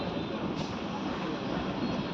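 A MEMU local train on the Vijayawada–Machilipatnam line rumbles steadily as it pulls into a station, a continuous rolling roar heard from on board with no talk.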